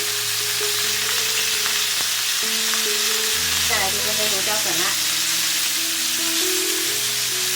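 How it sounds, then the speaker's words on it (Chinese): Pork bones seasoned with salt and black pepper frying in oil in a pan, with a steady broadband sizzle throughout and a few tonal background notes, while a voice talks over it. "把两面都煎到金黄"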